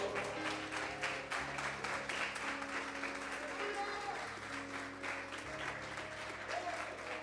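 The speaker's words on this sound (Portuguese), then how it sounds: "bate uma salva de palmas ao Senhor" Church congregation applauding during a Pentecostal-style sermon, a steady wash of clapping sustained throughout beneath a low organ or keyboard drone, moderately distant and even in level.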